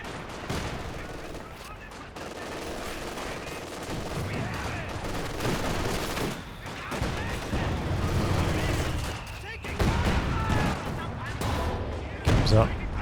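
A ZiS artillery barrage pounds away in a Company of Heroes 2 battle, with dense repeated booms and gunfire crackle rolling on, loud and continuous, while a commentator talks over it.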